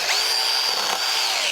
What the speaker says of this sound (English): It is a proper chainsaw, as small as it is, but you see there how good the chips are coming out